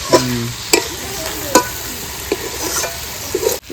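Meat for chicken curry sizzles as it is sautéed and stirred in a pan, a bright continuous frying hiss punctuated by several sharp spatula scrapes and knocks, close up and loud, with no voices.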